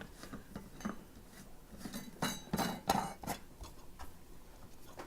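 A plastic feeder base is twisted onto a glass hummingbird feeder jar, giving a short series of close, quiet clicks and scraping ticks, with a few sharper knocks in the middle.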